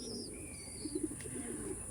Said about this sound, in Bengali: দেখুন এতটা পায়রা বাইরে আছে হিউজ পরিমাণে পায়রা ভেতরে আছে